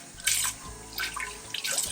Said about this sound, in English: Now I'm going to cut on some warm water or hot water,